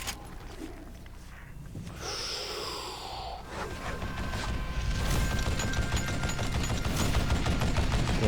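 A Gatling gun fires in a rapid, continuous burst in the Western shooter game Call of Juarez Gunslinger. The clatter grows louder and denser over several seconds, layered with game effects and score.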